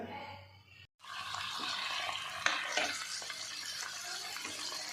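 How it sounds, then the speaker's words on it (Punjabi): After a brief cut, a dense steady sizzle of onions, paneer and green chillies shallow frying in a kadai fills the clip, with occasional scraping stirs, close and continuous. "ਹੁਣ ਅਸੀਂ ਪਿਆਜ਼ਾਂ ਦੇ ਨਾਲ ਪਨੀਰ ਤੇ ਹਰੀਆਂ ਮਿਰਚਾਂ ਨੂੰ ਵੀ ਸ਼ੈਲੋ ਫਰਾਈ ਕਰ ਰਿਹਾ"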